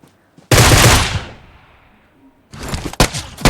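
Groza rifle fire in PUBG Mobile: a loud, close full-auto burst for about a second that fades into ringing, then a second stretch of rapid, uneven shots near the end.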